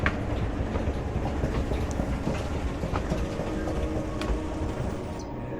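A train rumbles past near a station by the Porsche Museum in Stuttgart, with a steady low roar and faint metallic clatter from the wheels throughout.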